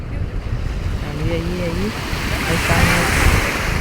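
Sea waves wash steadily onto a beach, a loud broadband surf roar with gusting wind noise on the microphone, and a voice speaks briefly over it.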